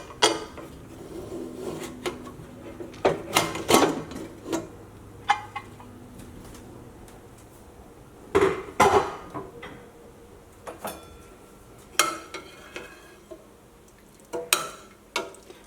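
Opening a pressure cooker lid after the steam has been released: scattered metallic clicks, clanks and scrapes of the lid and pot, close and intermittent with quiet gaps between.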